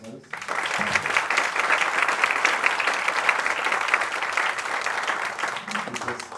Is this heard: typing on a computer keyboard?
no